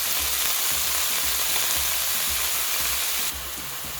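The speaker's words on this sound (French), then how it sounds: "Une fois que j'ai bien fait rissoler mes morceaux de viande, je viens rajouter mon oignon, mon cube bouillon bio." Browned beef pieces with onion and a bouillon cube frying in a pot for a beef and potato stew, a dense, loud, steady sizzle with low rhythmic stirring thumps, dropping slightly in level near the end, no talking.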